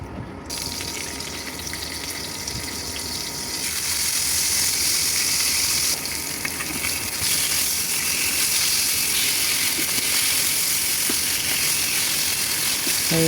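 Fish frying in oil in a wok makes a continuous crackling sizzle that swells louder after the first few seconds and holds steady to the end, with no voices.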